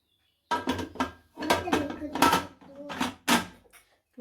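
A pressure cooker whistle is removed and the lid is closed in a home kitchen while baking banana cake: a series of sharp metallic clanks and clatters come in separate bursts, close and fairly loud.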